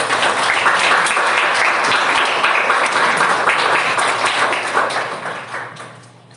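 A church congregation claps in praise during a Sunday family service, loud sustained applause from many hands close by that holds steady and then tapers off toward the end.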